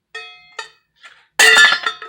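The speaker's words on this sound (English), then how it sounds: "See, like the frying pan." A metal camping frying pan is handled, giving a few separate ringing clinks and taps, then a louder clattering scrape of metal near the end, close up with no talking.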